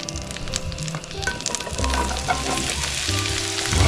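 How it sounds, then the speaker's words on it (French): Onions and celery browning in butter in a pan give a moderately loud sizzle with stirring scrapes and some clattering, steady and close over a few seconds. "je vais commencer à faire dorer eh bien, les oignons et le céleri"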